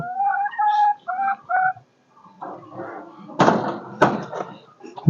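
Silkie chickens, among them a tiger Silkie, cluck and call in short bursts nearby, followed by knocking and shuffling thuds, with a voice speaking between them.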